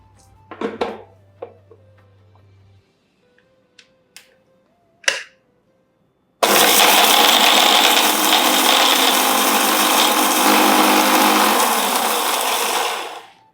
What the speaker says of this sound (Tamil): இது எல்லாத்தையும் அப்படியே நான் வந்து அரைக்க போகிறேன்